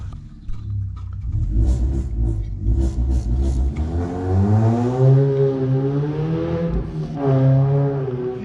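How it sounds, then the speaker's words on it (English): A noisy car revs and accelerates past outside, a loud mid-pitched engine roar that rises and swells over several seconds, passing fairly close before fading slightly. "we keep hearing those noisy cars"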